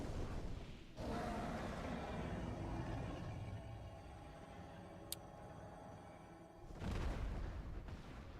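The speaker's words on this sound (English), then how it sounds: "Fireworks." Fireworks bursting outdoors: a loud deep boom opens, a low rumbling crackle lingers for several seconds with a single sharp snap partway, then another heavy blast thunders near the end, moderately distant.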